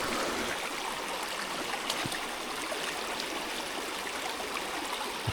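A small, tight mountain stream in Potter County runs with a steady, close rushing and gurgling that holds unbroken for the whole stretch, with no voices.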